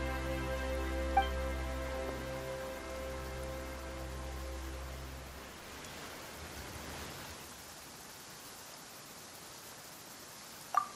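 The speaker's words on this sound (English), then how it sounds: "Why is it raining all of a sudden?" Rain falls in the video game Genshin Impact as a soft, steady hiss. For the first half it sits under a low musical tone, then continues alone and faint.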